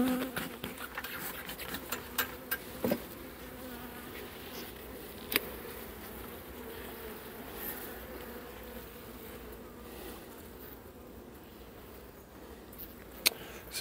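Honeybees buzz at an open beehive during a spring inspection after winter, a steady, moderate drone of many insects with occasional sharp individual passes close by, and no talk.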